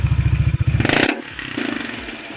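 Honda PCX scooter fitted with an aftermarket MT8 exhaust pipe revving hard up close in a closed space, a loud throbbing burst for about a second, then dropping back to a rumbling idle.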